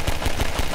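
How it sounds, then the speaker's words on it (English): Pistol shots from Half-Life 2: Episode One fire in quick succession, about five sharp punchy reports in a steady rhythm, close and loud over game ambience. "I love how this pistol sounds."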